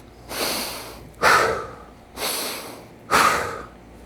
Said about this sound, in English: we're gonna go, 5 deep mouth breaths, right? Intentionally.